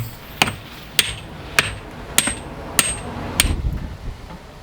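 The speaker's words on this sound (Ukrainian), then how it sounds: "Одягнемо трубку на держак і усадимо молотком." Six sharp, evenly spaced hammer blows ring out close by, seating a tube onto a wooden handle for an ice-fishing ice chisel, followed by a few softer knocks.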